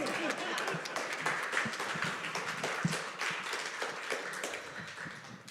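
Audience applause at a Unitarian Universalist Sunday service on poetry Sunday, a steady patter of clapping filling the room for several seconds, with a few louder individual claps standing out.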